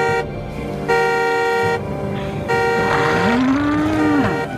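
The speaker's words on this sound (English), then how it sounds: "Honk the horn." A car horn honks in a Jurassic Park adventure game, sounding in a few loud, sustained blasts with a lowing, moo-like tone partway through and game noise underneath.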